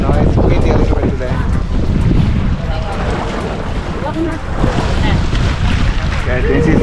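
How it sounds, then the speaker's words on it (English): Wind rushes steadily across the open sea during an island-hopping boat trip off Boracay, a loud, continuous roar with water and boat noise mixed in and muffled voices beneath it. "You know, it's windy a little bit today."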